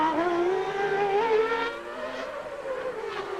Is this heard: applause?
no